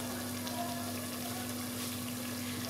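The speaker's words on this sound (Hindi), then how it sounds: "बाकी की जो यखनी है वो भी डाल देंगे हम।" Mutton stock (yakhni) pours into a cooking pot for mutton korma, giving a soft, steady liquid wash over a faint constant hum. The pouring is quiet and there is no talk.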